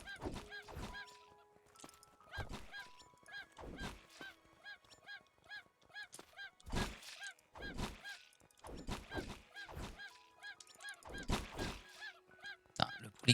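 A chicken in the Craftopia video game gives a rapid series of loud, nasal squawking calls in close succession, broken by several sharp thumping hits, with no voices over it.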